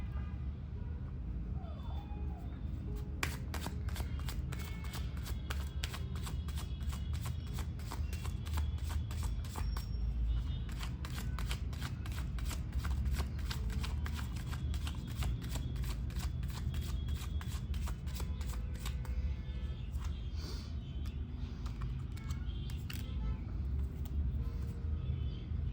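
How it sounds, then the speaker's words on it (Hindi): Tarot cards riffled and shuffled from a second deck, then drawn, making a long, steady papery flutter with rapid rattling bursts, close and continuous throughout, with faint traffic noise behind. "चलिए मैं दूसरे डेक से भी निकालती हूँ कार्ड्स"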